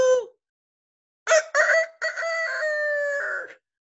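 A person's voice imitates a rooster's crow: a short opening note, a pause, then a series of loud, drawn-out crowing syllables.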